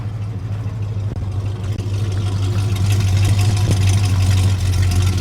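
An old square-body pickup truck engine idles steadily after a cold start, a loud, continuous low rumble with no talking.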